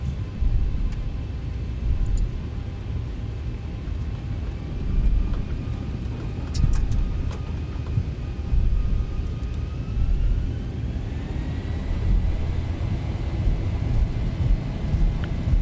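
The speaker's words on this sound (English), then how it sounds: "Takeoff thrust set." Boeing 737 engines spool to takeoff thrust in the X-Plane simulator, a steady loud low roar with a whine that climbs in pitch partway through.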